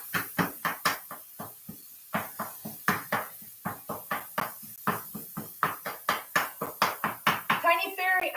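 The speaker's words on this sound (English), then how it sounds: "In case you can't hear all that banging, that's what that is." Metal pan banged repeatedly while ground meat is broken up on a stovetop, a fast run of sharp, loud clanking hits in steady rhythm with brief pauses, close up.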